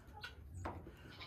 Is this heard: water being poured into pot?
no